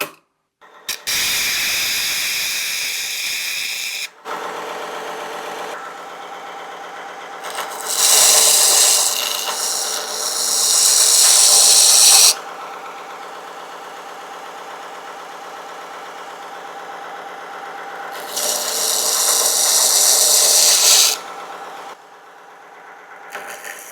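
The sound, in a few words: mini electric belt sander running on a knife tip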